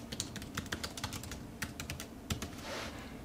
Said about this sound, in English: Just type in another name of a different product that I have.